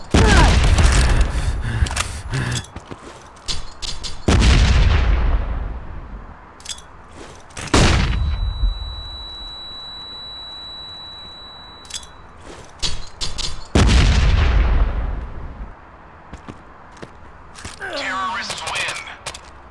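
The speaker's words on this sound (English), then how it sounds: "Grenade out!" A grenade going off in the video game Modern Ops on the Bomb Factory map: several loud booming blasts with long decaying tails and scattered cracks of gunfire, with brief voice lines from the game.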